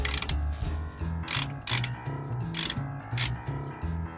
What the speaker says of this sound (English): you're gonna watch me set this spindle nut